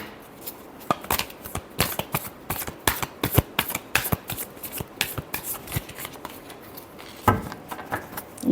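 Tarot cards are shuffled by hand in quick, crisp riffling bursts, a close rapid rhythm of slaps and flutters repeating over several seconds, with a louder final shuffle near the end.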